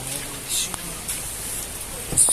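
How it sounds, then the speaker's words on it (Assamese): Heavy rain pours down around a parking area, a dense, steady hiss of drops with a few brief louder spatters, fairly close and continuous throughout. "এই বৰষুণ পূৰা বৰষুণ ধাৰাৰ বৰষুণ"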